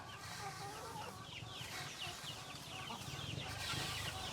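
Many free-ranging chickens cluck and chatter together around a chicken coop in a busy, continuous flock, moderately close, with no talking over them.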